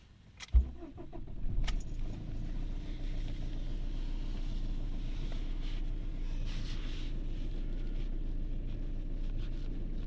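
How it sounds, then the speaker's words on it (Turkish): A diesel Fiat Linea starts up with a short cranking burst, then settles into a steady low idle rumble. The engine sounds close and fairly quiet, with no talk over it. "Aracımızı çalıştıralım."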